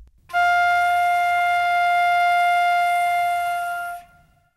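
A flute sounds one long, sustained F, steady and clear from a soft tongued start to a clean release, alone and close.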